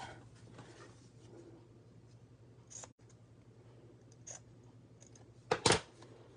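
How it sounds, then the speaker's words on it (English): Large scissors snipping through card stock at a papercrafting desk, a few faint cuts scattered through a low background hum, then one louder, sharper snip near the end. "I'm gonna get the big scissors out here."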